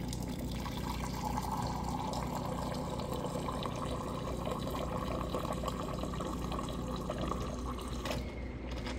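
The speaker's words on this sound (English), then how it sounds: "So I'm gonna get some hot water for" Hot water runs in a steady, continuous stream into a bowl for oatmeal for about eight seconds, then cuts off near the end, with no talking.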